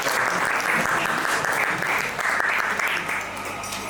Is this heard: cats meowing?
no